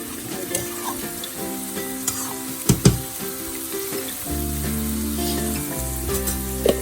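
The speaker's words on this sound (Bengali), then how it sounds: "ডিমটার এদিকে কি অবস্থা, একটু নাড়া দিয়ে দেই।" Egg curry (dim bhoona) sizzles and bubbles steadily in a pan, with clattering stirring strokes and a louder, thicker frying hiss in the second half, heard alone without talk.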